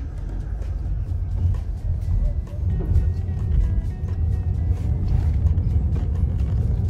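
A ferry's engine drones steadily as it moves forward, a continuous low rumble with water wash, close and loud throughout, with faint voices in the background.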